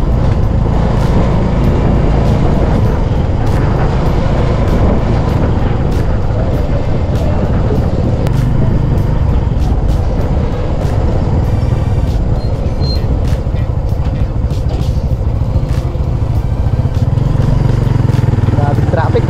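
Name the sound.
heavy road traffic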